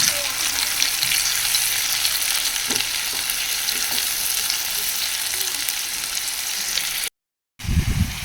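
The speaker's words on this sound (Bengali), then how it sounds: "এবার পেঁয়াজ বাটাটা দিয়ে দেবো।" Onion paste and chopped onion frying in a pan, a loud, steady close sizzle with faint stirring scrapes, cut by a brief silence near the end before a thump.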